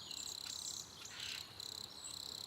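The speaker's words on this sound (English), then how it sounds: "Drop the crickets for Boston." Crickets chirp in a steady, loud, high-pitched trill with brief pauses between bursts, played as a sound effect with no talking over it.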